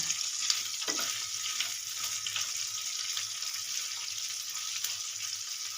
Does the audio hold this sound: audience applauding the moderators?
no